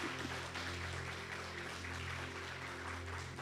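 A church congregation claps together during a worship service, a dense, continuous wash of applause over a low hum that holds steady throughout.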